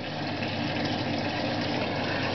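Indesit WG835TX washing machine taking in water at the start of a 50°C wash of dark laundry, a steady broadband rush of filling water running evenly and continuously at close range with no talk.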